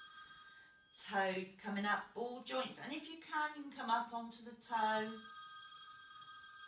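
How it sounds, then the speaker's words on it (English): A mobile phone rings in a steady tone with even harmonic pulses over a man calmly giving Shibashi movement instructions, the ringing running under his speech through most of the moment. "That's my phone, so just ignore it"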